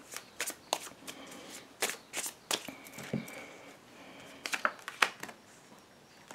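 Tarot cards being shuffled and drawn, a series of soft, crisp riffles and slaps in uneven bursts, close and fairly quiet, with no talking.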